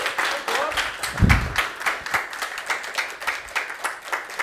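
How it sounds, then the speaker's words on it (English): A conference audience applauds a speaker at an open-source tech conference, a steady crowd of hand claps filling the room, with a voice briefly overlapping near the start. "So please give a round of applause for the man, the myth, the legend, Robert Hernandez."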